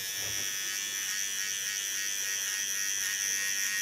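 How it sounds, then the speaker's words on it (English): A small cordless electric hair clipper buzzes steadily at close range while trimming short hair on the sides, a continuous high whine with no pauses or talk. "Now I only have to clean up with a small clipper and the sides are ready."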